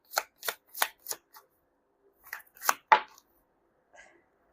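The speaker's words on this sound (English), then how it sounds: "so let's actually shuffle it again." Tarot cards are shuffled in a quick series of crisp riffling bursts, four or five rapid shuffles, a pause, then a few more, close and clear with no talking.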